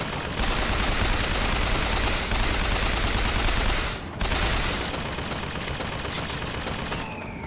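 Dense, sustained gunfire in BioShock Infinite, rapid overlapping shots forming a near-continuous roar with one brief dip in the middle, loud and close with no speech.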